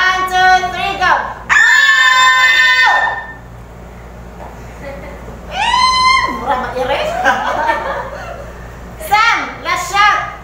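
Young children shout together in a loud, lively burst during a Bible story session about King Abijah's battle, with several voices rising at once and then trailing into quieter chatter before a second shout near the end.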